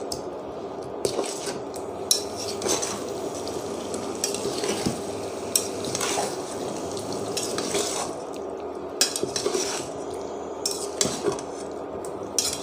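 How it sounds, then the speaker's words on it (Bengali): Potatoes being stirred in a pan of frying spice mix, a constant close sizzle under repeated scraping and clinking of a metal spoon against the pan in an uneven rhythm, with no talking. "ভালো করে নাড়াচাড়া করে আমরা মশলাটা মিক্স করে দিব আর কি।"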